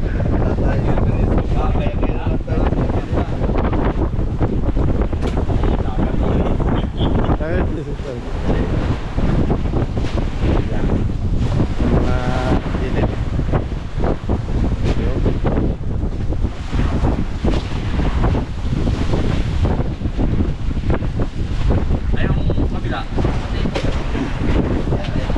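Strong, continuous wind roaring across the microphone, loud and buffeting throughout, with voices faintly underneath.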